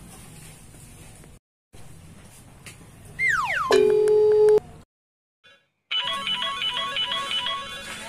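A telephone call is placed in a Sundanese short film, and a clear electronic ringback tone sounds with steady repeated tones, preceded by a brief rising dial-like sweep, with short silences between sections and no speech over it.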